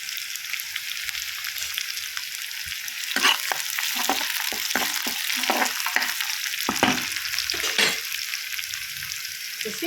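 Curry leaves, dried chillies and garlic hit hot oil in a pan, giving a loud, close crackling sizzle with sharp spits and pops that intensify midway and keep going throughout, with no voice over it.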